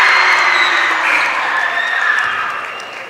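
A basketball crowd in a gym cheers and applauds steadily during free throws at a regional quarterfinal, a loud broad roar that slowly fades.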